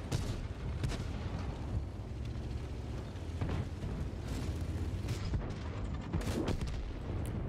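Artillery fire in the World of Tanks battle game, rumbling booms and gunshot blasts repeating over a constant noisy battlefield backdrop, with a few sharp loud reports standing out.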